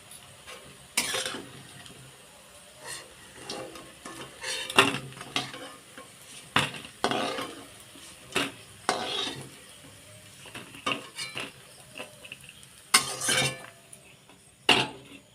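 Fried dal-coated pui shak fritters being lifted out of a pan, heard as repeated scraping and clattering of a utensil against the pan over a faint sizzle of oil, close and intermittent.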